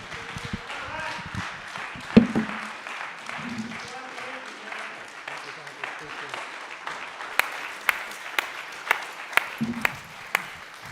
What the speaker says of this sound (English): please give Gene a round of applause.